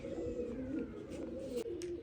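Pigeons perched on a rooftop pigeon roost coo softly with a steady, low, throaty murmur, faint against a quiet outdoor background.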